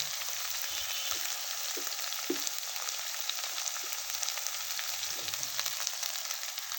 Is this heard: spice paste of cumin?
yes